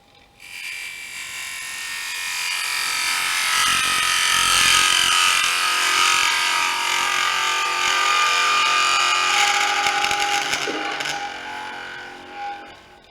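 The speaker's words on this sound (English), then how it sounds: "This is a bowl gouge." A bowl gouge cuts wood on a lathe, making a sustained rasping, buzzing shear that builds up, holds steady for several seconds, then tapers off as the cut ends, close and alone.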